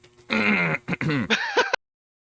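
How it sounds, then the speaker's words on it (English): Someone clears their throat in a few harsh, raspy bursts, close and fairly loud, ending in a short grunt. "I had to clear my throat there."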